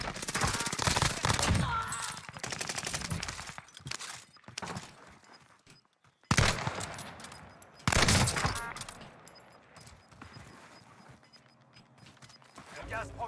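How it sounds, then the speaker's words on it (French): Video game gunfire on the Caldera map, with bursts of automatic fire and scattered shots crackling loudly, breaking off and returning in clusters while someone talks over it. "Merde, je me fais tirer dessus."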